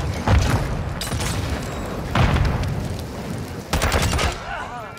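Loud gunshots from a thermal sniper rifle in a shooter game, a few sharp booming reports spaced about two seconds apart over ongoing game noise.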